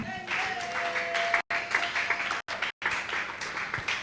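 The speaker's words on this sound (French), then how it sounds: "Applaudissez-le" Applause from a church congregation at a French-speaking Sunday service, a steady wash of clapping through the hall with a voice carrying over it and a few abrupt cutouts.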